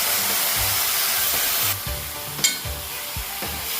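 Chopped papaya goes into hot oil with popped mustard seeds for a Kerala papaya upperi stir-fry. A loud, hissing sizzle suddenly drops and softens, followed by a few knocks and scrapes of stirring close by.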